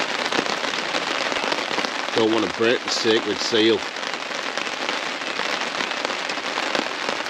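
Steady rain pattering on a woodland bushcraft camp, a constant dense hiss throughout, with someone speaking briefly over it midway.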